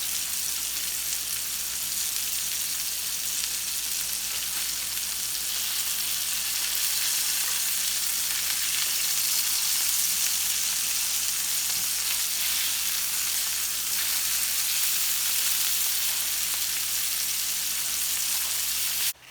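Stuffed burger patties sizzling loudly in a hot pan as they are flipped, a steady, close, hissing fry that fills the whole stretch without pause or talking.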